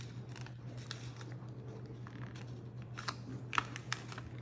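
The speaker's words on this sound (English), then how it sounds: "fold it again" Origami paper being folded for an easy box, with soft crisp creasing and scattered light paper taps and rustles, quiet and close over a low steady hum.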